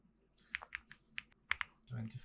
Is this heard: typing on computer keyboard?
yes